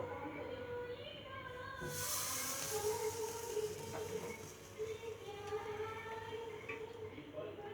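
Chicken marinated for an hour goes onto a wire grill over a raised stove flame, and a loud hissing sizzle bursts up about two seconds in, then settles into a steady crackle.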